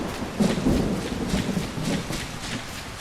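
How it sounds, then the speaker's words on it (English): Thunder rumbles low and close during a summer thunderstorm, a deep rolling boom that swells and fades over a few seconds with rain hissing faintly underneath. "And it's thunder."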